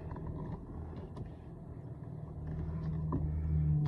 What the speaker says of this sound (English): So now I got a car behind me.